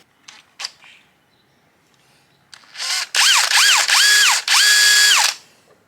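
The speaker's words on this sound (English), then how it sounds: "I'm actually going to just drill some eye sockets in this now" A few faint clicks and taps, then a power drill whines in four close, loud bursts with rising and falling pitch as it bores eye holes into a piece of hard timber for a fishing lure.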